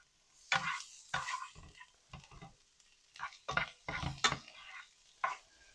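Garlic cooking in a pan for shrimp and grits gravy: close, irregular bursts of stirring and scraping with a light sizzle underneath, no voices.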